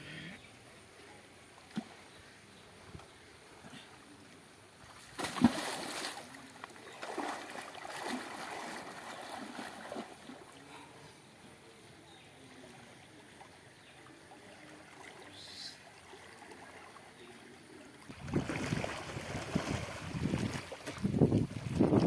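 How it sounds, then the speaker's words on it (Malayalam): Someone wades into rain-flooded water on a farm, two bursts of loud splashing and sloshing, one brief and one longer near the end, separated by a quieter stretch of outdoor ambience. "വെള്ളത്തിൽ ഇറങ്ങി നോക്കാം."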